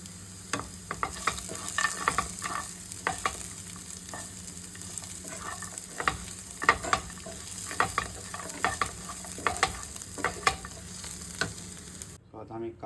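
Browned onion with cashew nuts fries in a pan, a steady close sizzle broken by repeated scraping stir strokes and clinks, with no talking.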